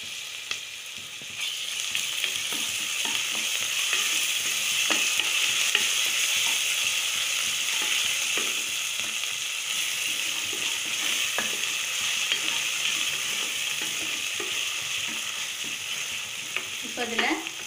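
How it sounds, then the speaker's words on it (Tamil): Ginger garlic paste fries in oil for a vegetable biryani with a continuous bright sizzle, while a spoon stirs it in scattered scrapes and taps near the end. "இப்போ நம்ம வச்சுருக்க இஞ்சி பூண்டு பேஸ்ட் போட்டுடலாம்."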